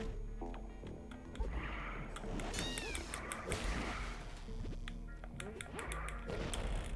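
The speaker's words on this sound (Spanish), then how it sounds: "Gato bomba." Repeated cartoonish meows come from a bomb cat enemy in the action game The Swords of Ditto, mixed with game sound effects, clicks and background music at a quiet level.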